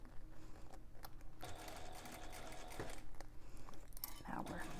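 A sewing machine runs steadily, stitching a seam on a Loule bag and going back over the connector tab to reinforce it, with a person talking over it.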